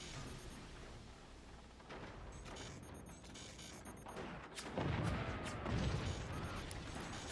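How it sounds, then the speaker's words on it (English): Heavy cannon fire in the video game BOG, a dense barrage of booming impacts and rumbling blasts that swell louder near the end, with no talking. "Here come the cannons. They're hitting hard"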